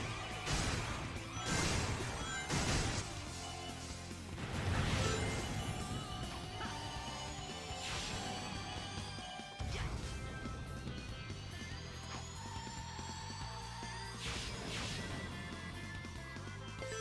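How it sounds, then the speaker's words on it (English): Clay pots smash in Sonic Generations, a few sharp crashing breaks early on, followed by busy game sounds, rising whooshes and music at moderate loudness. "That fucking clay pot smashing noise."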